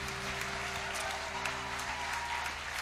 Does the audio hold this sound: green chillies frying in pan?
no